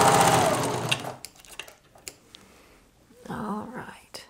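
A serger overlock machine runs steadily while stitching a rolled hem on stiff fabric, loud and close for about a second before stopping. Scattered handling noises follow, then a person speaks briefly near the end.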